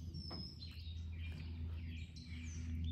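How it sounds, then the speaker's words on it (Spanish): Small birds perched on a yard fence after rain give faint, scattered high chirps and tweets over a steady low outdoor hum, distant and quiet. "Ahí están los pajaritos"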